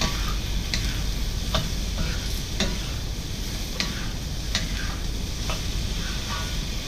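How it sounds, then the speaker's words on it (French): Cauliflower and potatoes being stirred in hot oil in a pan, a steady sizzle with a spoon clicking and scraping against the pan every second or so, close and continuous. "vous allez remettre donc le chou-fleur et les pommes de terre et les mélanger de nouveau"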